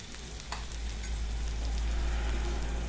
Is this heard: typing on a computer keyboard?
no